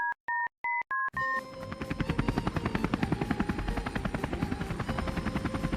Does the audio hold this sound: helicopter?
yes